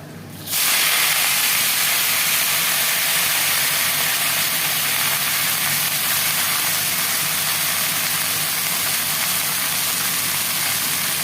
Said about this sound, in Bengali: রসুনটা একটু ভাজা ভাজা হয়ে গেছে, এবার আমরা শাকটা দিয়ে দেবো।